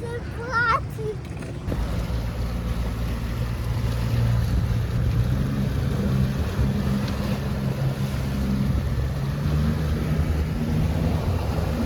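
A small boat on the salty sea off Corfu gives a continuous low engine drone with wind buffeting and splashing water, after a brief opening of voices and clatter.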